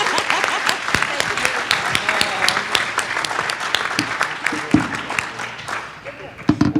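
At the Step UP AZ 2018 David's Hope Award ceremony, a crowd claps loudly and steadily for several seconds while a voice talks over part of the applause, which thins toward the end.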